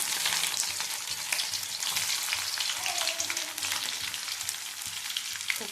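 A continuous close sizzle comes from garlic frying in a pan, a dense even hiss that stays steady with small crackles throughout.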